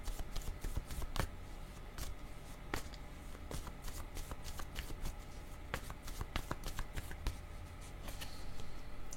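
Tarot cards being shuffled by hand: crisp riffling and flicking bursts repeat in quick irregular bunches, close and fairly quiet, with no talk.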